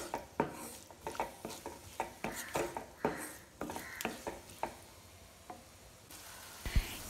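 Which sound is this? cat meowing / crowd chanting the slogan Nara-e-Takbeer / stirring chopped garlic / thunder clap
stirring chopped garlic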